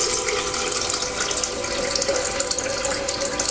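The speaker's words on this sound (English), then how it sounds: "I have a Brita pitcher, which you can get at a drugstore or a health food store or something, and then I put half water in my blender" Water pours steadily from a Brita pitcher into a blender, making a continuous splashing, filling rush that holds at a fairly constant level, close by, with no talking.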